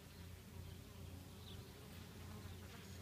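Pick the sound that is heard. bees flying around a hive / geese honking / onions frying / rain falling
bees flying around a hive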